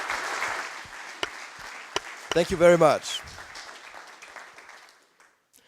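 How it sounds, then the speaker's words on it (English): Applause from a conference audience at a business process management round table, a steady wash of clapping that fades out toward the end, with a brief spoken thanks over it. "Once again, a very warm applause with respect to time."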